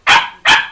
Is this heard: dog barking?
yes